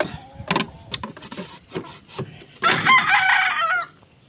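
A hen clucks in short, scattered bursts, then a rooster lets out a loud, drawn-out crow close by.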